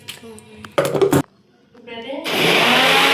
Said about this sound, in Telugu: ఫ్లవర్స్ ఆకులు మొత్తం కలిపి అయితే మిక్సీ పట్టేసుకున్నాం.